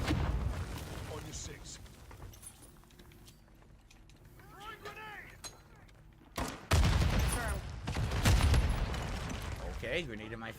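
A grenade blast in a shooter video game, round 22, lands as a sudden loud broadband burst partway through, followed by continued heavy rumbling gunfire and someone talking over the game noise.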